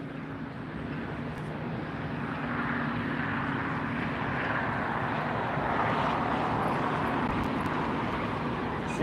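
An Alaska Airlines jet taxis at LAX, a dense low roaring engine rumble heard from a distance that swells slightly and holds steady, with no talking.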